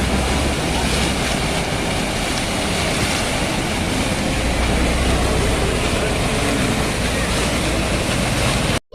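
Water gushes from a burst municipal supply pipe on a street in Hubballi city, a loud, steady rushing roar that fills the whole stretch without pause.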